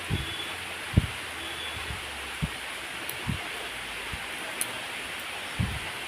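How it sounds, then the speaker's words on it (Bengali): Heavy rain falling outside on a road, a constant broadband hiss with a few scattered soft thuds and taps, no voices. "বাইরে খুব বৃষ্টি হচ্ছে"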